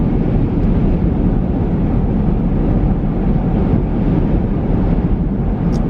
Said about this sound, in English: Listen to this wind.